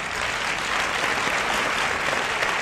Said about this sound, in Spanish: Y el aplauso de toda España.